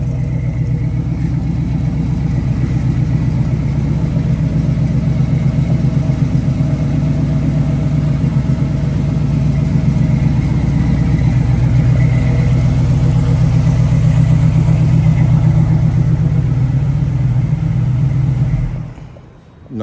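A 1971 Chevrolet Nova engine idles steadily with a deep, even rumble for the whole stretch, then cuts off abruptly at the end.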